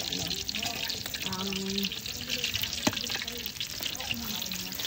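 Pork belly for lechon kawali deep-fries in a pan of oil, giving a steady crackling sizzle throughout with occasional pops, while a voice talks faintly in the background.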